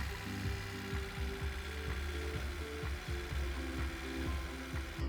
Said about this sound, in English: it had this awful tapping sound due to one of the tappets being seized